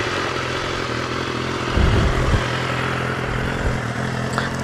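A stock 2014 BMW S1000RR motorcycle engine starts up and settles into a steady, loud running drone close to the microphone, with a brief thump of the start partway through.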